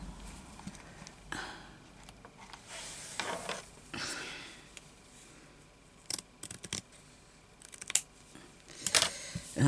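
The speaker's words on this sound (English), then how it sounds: "This has got to be cut off here." Scissors snip through fabric pieces for a crazy patchwork embroidery project, a few sharp close cuts scattered among quieter handling noise.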